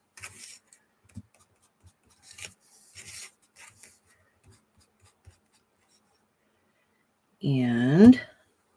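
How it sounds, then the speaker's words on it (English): Ink being blended on a paper craft project, heard as soft, sparse rubbing and scratching strokes on paper, faint and intermittent, followed by a short burst of voice at the end. "I can blend out this ink on here."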